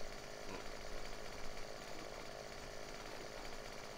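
A chainsaw cutting a tree trunk in the farming game Landwirtschafts-Simulator 15 gives a steady, faint, buzzing drone that runs unbroken throughout, with no talking.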